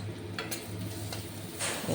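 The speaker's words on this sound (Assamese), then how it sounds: "সেইখিনি ধুনীয়াকৈ ভাজি ল'ম মই এতিয়া।" Spices and dried red chilies frying in a little oil, a soft steady sizzle with a few stirring scrapes in a pan, close and fairly quiet.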